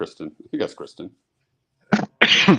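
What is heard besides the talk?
sneeze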